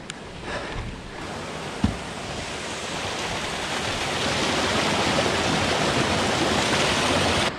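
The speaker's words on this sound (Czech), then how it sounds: "Krásný vodopád." Steady roaring water from a waterfall beside a forest mountain bike trail in the Rychleby mountains, a broad continuous rush that swells slightly louder toward the end, with a brief knock early on and no talking.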